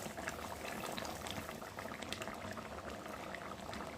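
A pot of taro (kochu) curry with sugar and meat masala bubbles steadily at a boil, a dense continuous burble of popping bubbles, close and even throughout with no voices.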